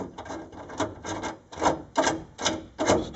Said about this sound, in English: I'm going to put all the screws in